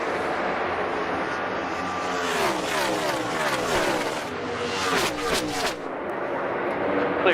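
NASCAR stock cars race past on the oval at Chicagoland, engines roaring in loud sweeping passes with a clear rise and fall of pitch as each car goes by, while a commentator talks in the background.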